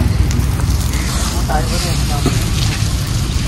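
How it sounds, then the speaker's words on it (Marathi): Large outdoor fire burning to cook popati, a roaring broadband rush with faint crackles and wind buffeting the microphone, steady and close throughout. "बघा किती मोठी आग लागली, मोठी."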